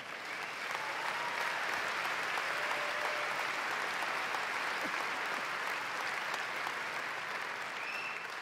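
A summit audience breaks into sustained applause after a speech on human rights and Israel, a broad, steady roar of many hands clapping that holds evenly for over eight seconds.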